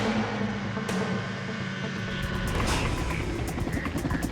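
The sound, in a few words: helicopter taking off for aerial search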